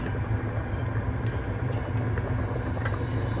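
An electric fan whirs continuously and fairly loudly nearby, a constant broad hum without pauses or voices.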